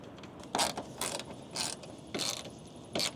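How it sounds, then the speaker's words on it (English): Hinge on a tilting solar panel mount on an off-grid campervan roof being flipped: five short metallic clunks and creaks in an uneven rhythm, close and fairly loud over a faint background hiss. "Flip that hinge."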